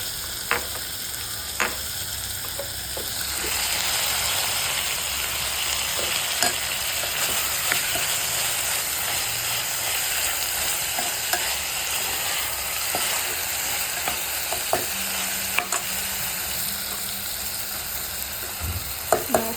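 Peanuts and other ingredients fry in a pan with a constant hiss, while a spoon stirs and scrapes with scattered clicks and clinks throughout.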